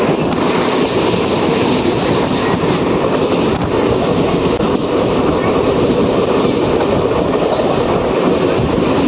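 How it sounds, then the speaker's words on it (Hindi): A loud, continuous rumble and rattle of a moving Mumbai local train, steady throughout with constant wheel clatter and no pauses. "अभी हम चढ़ चुके हैं लोकल ट्रेन में"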